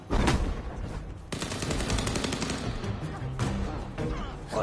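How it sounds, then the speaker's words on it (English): Gunfire in the video game Vampire the Masquerade: Bloodlines 2, with loud rapid bursts of shots and a short pause between volleys over a dense background of combat noise. "Use your gun to help out."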